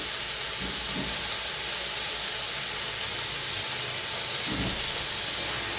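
Ridge gourd with tomato, salt and turmeric cooks in a pan with a loud, steady steamy hiss that barely changes over a few seconds, with faint low thumps underneath.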